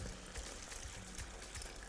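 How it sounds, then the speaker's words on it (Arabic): A little water pours into a cooking pot of spiced basmati rice, a steady faint gushing splash that runs without a break, with no voices. "هزود بس شويه ميه كده"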